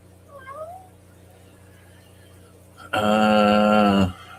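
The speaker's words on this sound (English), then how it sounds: "Skipper, have you kept your work cat?" A single loud, drawn-out cat meow, close by, following a quieter stretch with faint background sounds.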